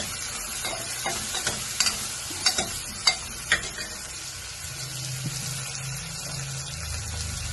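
Three onions and 400 grams of minced beef keema fry in a pan, a steady sizzling hiss with a few sharp scrapes and clatters of stirring near the start, then a softer continuous fry.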